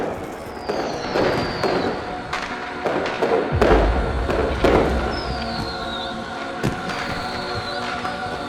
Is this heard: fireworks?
yes